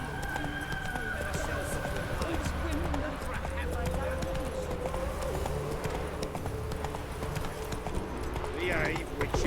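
Horse hooves galloping in The Witcher 3, a continuous rhythmic clip-clop beneath a steady game soundscape with a voice speaking over it.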